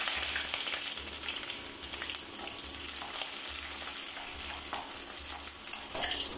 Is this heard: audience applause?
no